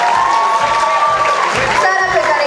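Audience at a Romanian high-school freshmen's ball cheering and clapping, a dense continuous crowd roar with whoops and rhythmic beats underneath, loud and close throughout.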